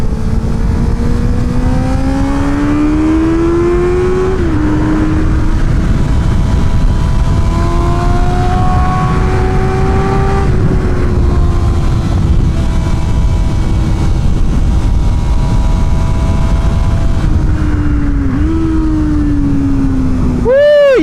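A Honda CB650R motorcycle engine howling steadily on a race track, pitch rising and falling through gear changes, with heavy wind roar throughout and a sharp rev near the end.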